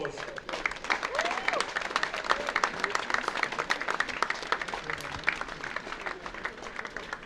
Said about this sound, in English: players, please give your parents and friends and everybody that made it possible for you to get here a big